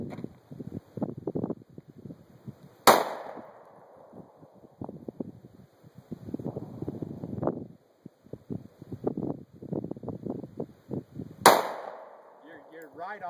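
Two sharp Glock pistol shots fired at targets outdoors, about nine seconds apart, each loud and close with a short ring. Quieter talk and shuffling fill the gap between them.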